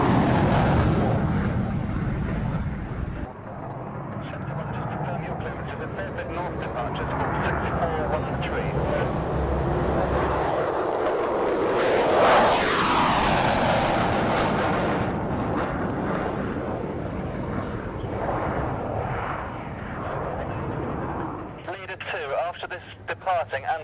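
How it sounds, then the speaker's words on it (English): An Antonov aircraft takes off from a runway, its broad roaring engine noise sustained and swelling to a loud peak midway before easing, with radio chatter and voices talking throughout. "Departing Antonov, just getting airborne"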